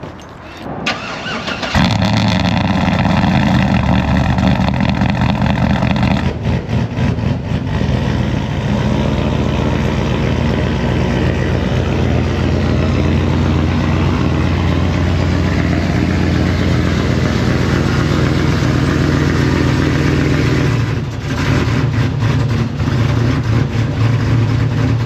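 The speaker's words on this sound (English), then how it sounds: "let's hit this thing with a cold start" Chevy Silverado truck with a 6.0 V8 firing up from cold: a brief crank, then a loud, steady, rumbling idle held close by for the rest of the clip, with no talking.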